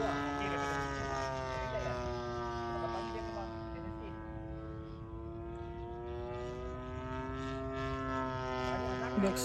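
A Seagull Supermarine Seafire 20cc RC model plane flies overhead with a steady, buzzing petrol engine drone, rich in harmonics and slowly shifting in pitch as it passes, fairly distant, with a voice talking faintly over it.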